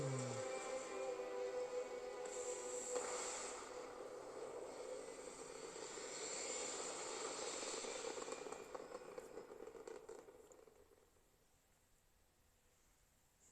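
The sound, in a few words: spaceship lifting off into orbit in video game Starfield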